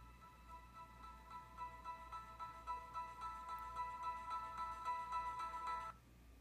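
A Windows 10 Mobile ringtone plays as a steady electronic melody with rhythmic pulsing tones for about six seconds, then stops abruptly, with no talking.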